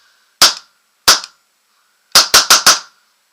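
Six sharp, loud shots from a Tiberius Arms T8.1 paintball marker running on remote line air: two single pops about a second apart, then a fast burst of four.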